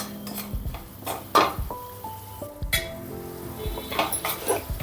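Semolina being roasted for Kashi halwa, stirred in a pan with a spoon, making soft scraping and clinking strokes in an irregular rhythm over background music.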